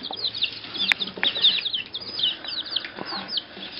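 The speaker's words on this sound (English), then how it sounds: "that's the chickens eating a worm here at Highland" Young chicks cluck and peep in quick, overlapping bursts while eating worms, close by, with a few soft thumps and scuffles mixed in.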